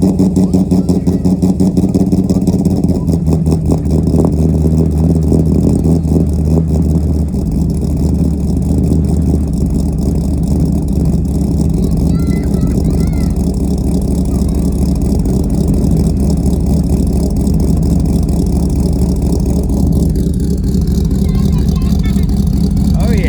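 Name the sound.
Corvette C5 engine started and idling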